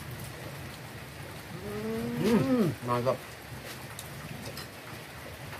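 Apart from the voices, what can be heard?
rain falling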